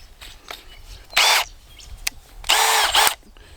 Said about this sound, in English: I got the drill bit, 25mm auger bit.